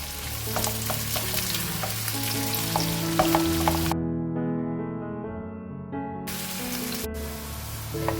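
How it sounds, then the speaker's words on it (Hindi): Onions browning in hot oil for a chicken curry, a continuous close sizzle with crackles, while steady music-like tones play in the background and briefly carry on alone. "और हमने प्याज को ब्राउन करना है।"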